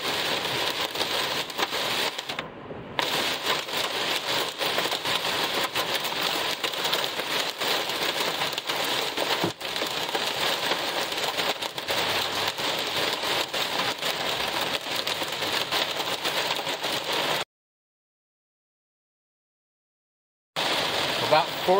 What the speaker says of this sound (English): I hear the hail coming now.